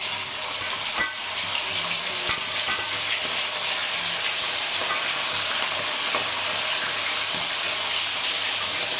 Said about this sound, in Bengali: তেলটা গরম হয়ে গেছে, এই যে দিয়ে দেব মাছগুলো।